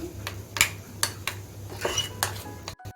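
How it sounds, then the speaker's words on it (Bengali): A spoon stirs salt into a sago (sabudana) batter in a bowl for homemade chips, giving a series of sharp, close clinks and scrapes against the bowl with brief quiet gaps between. "এখন আমি নুনটাকে ভালো মতো মিশিয়ে নিচ্ছি"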